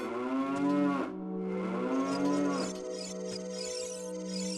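Cows mooing in the video game The Legend of Zelda: Ocarina of Time, loud sustained bellowing moos, two long calls with rising and falling pitch followed by a steady droning low, close and alone.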